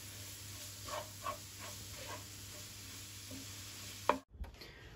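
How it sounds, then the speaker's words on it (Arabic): Pie filling with chopped parsley sizzles gently in a pan while a spoon stirs it, giving soft scraping strokes over a low, steady frying hiss, with a sharper clink near the end. "فين غادي نحرك هادشي وغادي نخليه غير شويه البنات يزيد يتشحر ونحيدو"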